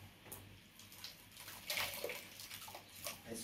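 Water trickles and splashes steadily as washed bitter leaves are squeezed by hand, with small drips and a low hum beneath, close by and fairly quiet.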